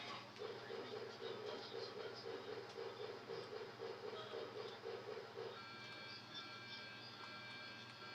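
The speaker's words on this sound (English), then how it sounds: "There's the train clock." A train clock chimes in a steady, repeating electronic pattern for about five seconds, then stops, over a continuous low rumbling background hum.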